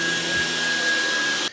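A LEVOIT cordless vacuum cleaner in turbo mode gives a loud, steady high-pitched whine with a thin tonal hum, running alone at close range before cutting off abruptly at the end.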